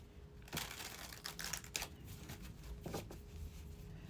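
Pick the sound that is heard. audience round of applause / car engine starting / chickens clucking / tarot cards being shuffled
tarot cards being shuffled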